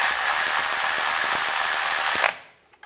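A ratchet tightening the rear ABS wheel speed sensor bolt on a 2010-2016 Cadillac SRX gives a close, steady mechanical whirring rattle for about two seconds, then stops abruptly. No one speaks.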